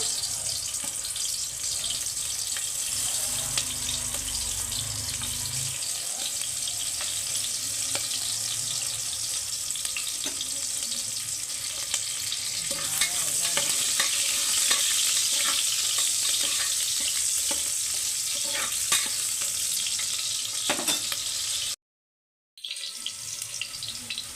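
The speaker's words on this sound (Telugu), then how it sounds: "ఆయిల్ వేడెక్కింది ఉల్లిగడ్డలు వేస్తున్నా" Onions fry in hot oil with a loud, continuous close sizzle and crackle that runs without pause, cuts out for a moment near the end, then resumes; no voices.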